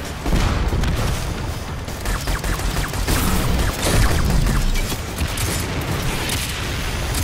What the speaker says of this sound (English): Just head for the explosions.